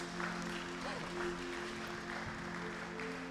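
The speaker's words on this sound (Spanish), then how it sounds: "¿Por qué no le das un fuerte aplauso al Señor?" A church congregation claps for the Lord after a closing prayer at a Sunday Spanish-language service, steady applause filling the room at moderate level, with a low hum of the sound system underneath.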